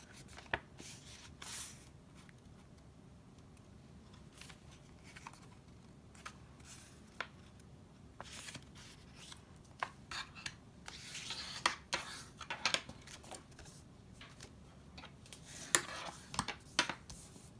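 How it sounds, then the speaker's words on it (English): Scored white cardstock is folded and burnished by hand in soft, quiet rubbing strokes, broken by occasional sharp papery scrapes and taps. "And then we will fold that and burnish."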